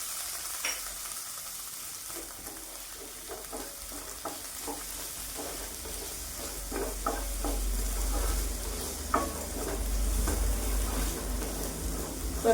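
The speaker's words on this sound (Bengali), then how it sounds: "টমেটোটাও ভেজে নিব একটু হালকা করে, যাতে কাঁচা গন্ধটা না থাকে" Chopped tomato with green chilli frying in a pan, a steady close sizzle running throughout with occasional scraping stir strokes, growing slightly louder toward the end.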